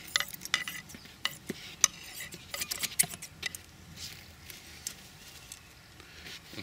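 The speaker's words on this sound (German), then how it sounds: "Wir schneiden uns jetzt ein kleines Stück Vlies zurecht, das wir unten in den Topf reinlegen" Scissors trim a small piece of fleece to line a bonsai pot, producing quiet, close snipping and rustling ticks in irregular clusters against a near-silent background.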